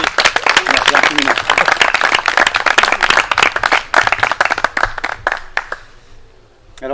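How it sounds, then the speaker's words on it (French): Audience applause at a French talk on permaculture and alternative living, dense sustained clapping for several seconds that thins out and fades near the end. "qu'on vous applaudisse parce que c'est un gros taf que vous avez fait"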